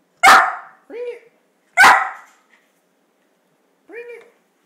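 A dog barks twice, sharp and close, each bark followed by a short whining yelp, then one more whine after a pause.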